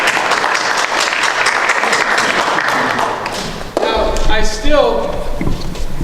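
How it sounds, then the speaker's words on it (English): Dense audience clapping at a workshop fills the first few seconds, then gives way to scattered thumps and voices talking nearby. "Let's give a round of applause."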